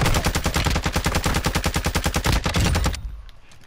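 Rapid automatic gunfire in Call of Duty: Modern Warfare II, a loud, close, continuous burst of evenly spaced shots lasting about three seconds before cutting off into a fading tail.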